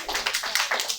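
A live audience at a comedy show claps in a quick burst of applause, a brief patter of many hands close by.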